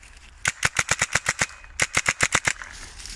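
A CO2-powered airsoft gun running a 12 gram CO2 adapter fires two rapid bursts of sharp, close pops, about eight shots in the first and seven in the second, separated by a brief pause.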